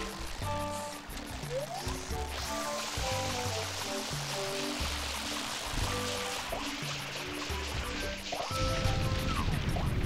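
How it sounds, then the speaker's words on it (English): Rushing water of an uncorked waterfall in Super Mario Sunshine, a steady broadband hiss running under cheerful synthesized game music with repeating notes, growing a little fuller and louder near the end, no talking. "uncork the waterfall"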